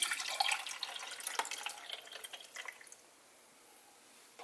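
Water from a cup trickles and splashes into the reservoir of a Proctor Silex single-serve coffee maker. The pour is close and fairly quiet, then stops and leaves near silence.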